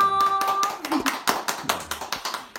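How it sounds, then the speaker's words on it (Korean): At a Korean talk event, a small audience claps to welcome a manager being introduced on stage. A brief tone opens the moment, then a scatter of sharp, close hand claps follows in an uneven patter. "박수 주세요"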